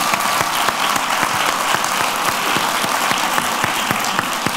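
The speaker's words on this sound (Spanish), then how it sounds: "por favor, un aplauso para él" A close audience applauds a guest at a conversation event, loud and sustained, with individual claps standing out sharply from the crowd's steady clatter.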